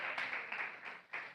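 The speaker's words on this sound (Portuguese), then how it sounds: "Uma salva de palmas para Jesus de Nazaré." Applause from a church congregation, a brief, moderately faint burst of many hands clapping with small surges.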